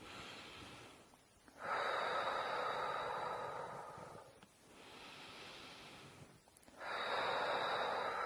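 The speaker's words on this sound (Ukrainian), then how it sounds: "І ми продовжуємо дихати." Slow, deep breathing through a labor contraction, each long breath swelling and fading in a steady rhythm, close and fairly quiet, with no talk over it.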